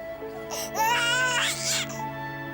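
An infant cries in loud, wailing bursts with rising and falling pitch, close by and rising to a peak in the middle before trailing off, over a steady background hum.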